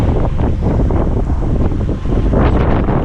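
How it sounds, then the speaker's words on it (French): Strong wind buffets the microphone at an abandoned amusement park in loud, continuous low roaring gusts that swell and ease, with no voices heard. "on va parler fort parce qu'il y a beaucoup de vent"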